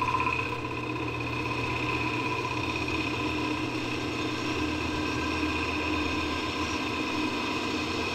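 A wood lathe runs steadily at 800 rpm, turning a segmented maple lamp shade, giving a continuous mid-level motor hum with a constant whine and no breaks.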